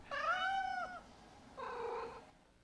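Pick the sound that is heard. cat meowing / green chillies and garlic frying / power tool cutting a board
cat meowing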